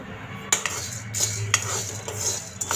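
Split chickpeas (dalia) dry roasting in a pan, heard as a steady rustling scrape of a spoon stirring the dry lentils, with sharper metallic clinks against the pan at intervals.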